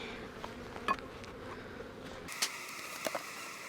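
Bees buzzing around an open beehive, a steady close drone with individual insects zipping past the microphone, a few sharp taps, no talking.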